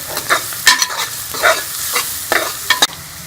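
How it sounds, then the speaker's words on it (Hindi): Garlic ginger paste fries with onions in a hot pan, a steady sizzle broken by repeated scraping strokes of a stirring spoon, close and fairly loud. "इसके अंदर ये लहसुन अदरक का पेस्ट डाल देंगे और इसको भी 2 से 3 मिनट हम फ्राई कर लेंगे।"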